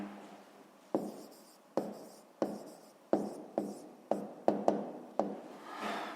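Hand writing of a math answer, likely with pen on paper in a workbook: a series of distinct scratchy strokes, each with a sharp onset and fading tail, about ten of them, close and fairly clear.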